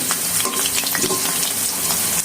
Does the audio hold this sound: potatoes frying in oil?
yes